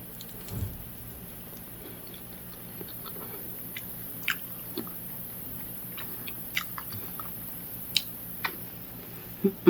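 Fresh guava bitten and chewed up close, with a few sharp crunchy bites standing out over a quiet background and soft mouth noises in between.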